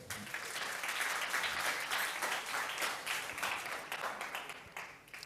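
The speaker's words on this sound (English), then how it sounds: "A round of applause for them." At a high school debate quarterfinal, the audience gives the judges a round of applause: fairly faint, distant clapping that runs unevenly with individual claps poking out and tapers toward the end.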